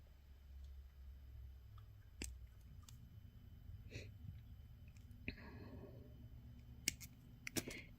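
Small snips cutting off two short pieces of bracelet wire over leather, giving a couple of sharp, quiet clicks spaced apart amid faint handling noise, close up.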